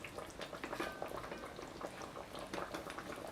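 Mutton curry boils in a cooking pot, giving a steady, close bubbling and popping that stays fairly quiet and continuous throughout, with no voices.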